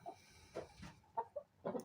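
A young chicken from Vietnam clucks in several short, separate bursts close by, quiet and intermittent, with no talk over it.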